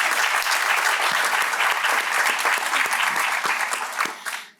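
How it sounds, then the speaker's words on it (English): Audience applause at the Nantucket Cottage Hospital Women+Wellness evening gathering, a dense, steady roar of many clapping hands filling the room before tapering off at the end. "So if we could give a round of applause to Mary"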